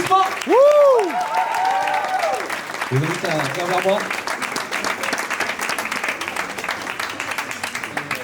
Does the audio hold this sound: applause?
yes